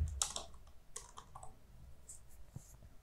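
A computer keyboard clicks in short, uneven bursts of keystrokes, close and quiet, with no voice over it.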